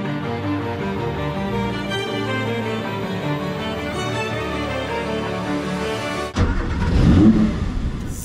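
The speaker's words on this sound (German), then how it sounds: "So, Leute, jetzt starten wir hier mal den Motor. Schalten in den ersten Gang, rollen mal los." The ABT XGT race car's engine drones steadily on the Mallorca racetrack, its tone rising in a sustained climb, then a sudden shift into a louder, rougher surge as it accelerates hard.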